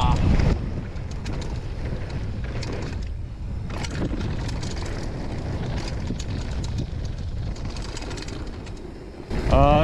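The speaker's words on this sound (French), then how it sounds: "Il y a un peu de vent" Wind buffeting the microphone while mountain biking at the Les 2 Alpes bike park, a continuous low roar with gusts and faint outdoor sounds.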